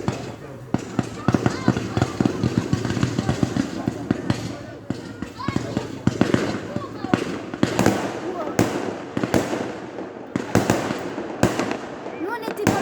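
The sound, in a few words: fireworks exploding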